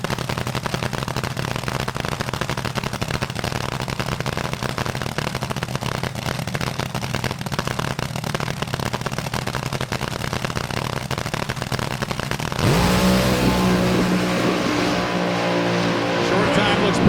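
A nitro-burning AA/Fuel top fuel dragster rumbles loudly at a nostalgia drag race as it moves up to pre-stage, a dense pounding engine roar that shifts into a harsher, revving tone near the end.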